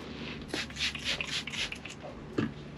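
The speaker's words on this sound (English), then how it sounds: "I'm gonna wipe it down one more time" Cloth wiping down a Mustang front brake part, a series of soft close rubbing swipes with a brief knock near the end.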